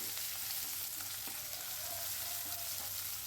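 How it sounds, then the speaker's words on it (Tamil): Chopped large onions sauté in a pan, giving a steady, soft sizzle throughout with a few faint stirring clicks. There is no talk. "இப்போது வந்து பெரிய வெங்காயம் வந்து நல்லா வதங்கணும்"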